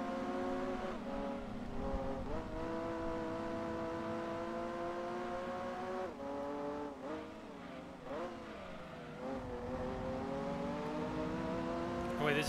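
Race car engines from the racing video game Gran Turismo 2 drone steadily throughout, with pitch sweeping up and down through gear changes as cars accelerate and jostle for position, loud and continuous.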